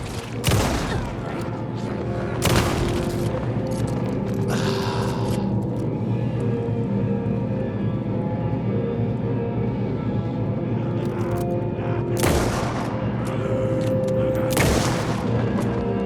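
Gunfire in Alan Wake 2's Night Springs episode, a few loud sharp shots standing out from a dense, constant rumbling game soundscape, with heavy blasts near the start, around the middle and toward the end.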